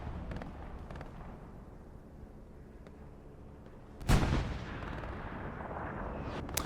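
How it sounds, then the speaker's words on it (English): Wartime bombing run in the online shooter Hell Let Loose on Elsenborn Ridge: a single heavy explosion bursts loudly after a low rumbling battlefield bed, its roar trailing off into sustained distant rumble. "This is Axis bombing run coming in again."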